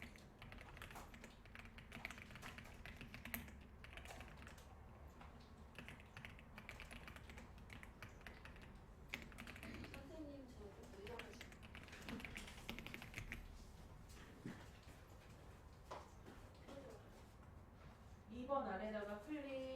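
Fingers type on a computer keyboard in a classroom setting, a quiet, steady patter of key taps running throughout under a speaking voice.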